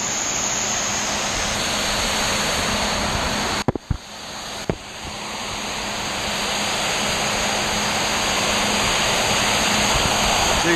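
Loud rushing water pours steadily like a broad cascade inside a BAC cooling tower, briefly interrupted by a couple of sharp clunks from a float valve before the torrent resumes.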